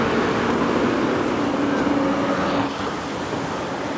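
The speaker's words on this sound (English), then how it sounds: "The sound of the ocean is outdoing the sound of the traffic." Ocean surf washing onto an uncrowded shoreline right beside a big elevated highway, a steady broadband roar of waves blending with continuous traffic rumble, loud and close throughout with no talk.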